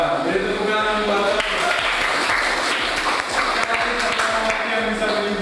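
An audience applauds throughout, a dense continuous wash of clapping that stays steady, with a voice faintly over it.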